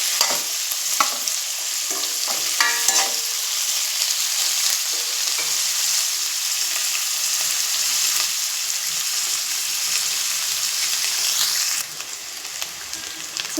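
Cauliflower florets fry in a pan of oil, a loud continuous sizzle like heavy rain with a few spatula scrapes early on, easing slightly near the end; no one speaks.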